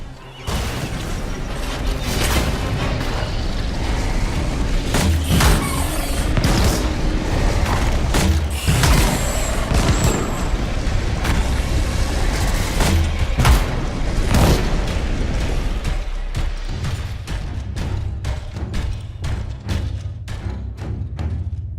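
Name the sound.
flamethrower and grenade launcher firing in Anthem video game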